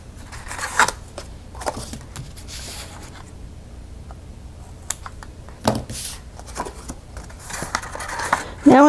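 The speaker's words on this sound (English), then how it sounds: "using my little detail scissors, I'm going to cut it" Several short snips of small detail scissors cutting paper for a gable favor box, spaced irregularly, with quiet rustling between cuts.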